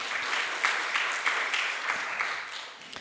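A church congregation at a Sunday afternoon service applauding together, a steady, dense wash of clapping filling the room at moderate volume throughout, with no voices over it.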